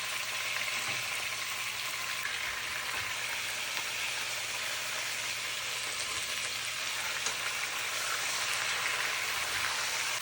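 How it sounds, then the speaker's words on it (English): Chuck roast searing in a mix of vegetable and olive oil, a steady broadband sizzle and crackle holding evenly throughout without any talk. "We're gonna sear that off till it's brown, just to give it some caramelization and flavor."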